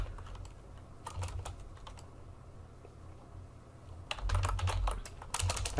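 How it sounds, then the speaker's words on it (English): Fast typing on a computer keyboard, close and fairly quiet, with a light patter of clicks that pauses briefly before a quicker, denser flurry of keystrokes. "So let me type in"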